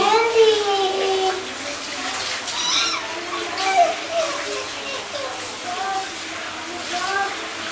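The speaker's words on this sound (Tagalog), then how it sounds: "tapos na si Indy girl maligo" Water splashes and runs while Indy, a female dog that recently gave birth, is bathed. Voices talk over the fairly steady sloshing and pouring.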